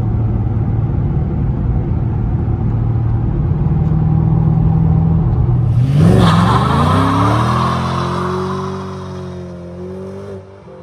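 A 2005 Saleen S281 Mustang V8 rumbles loudly at a steady cruise, then revs up hard with a rising roar before easing off into a lower, fading drone.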